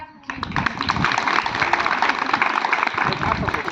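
Audience at a village self-help group meeting on voting awareness in Maharashtra breaks into sustained applause after a brief lead-in, dense clapping carrying steadily at moderate loudness for several seconds.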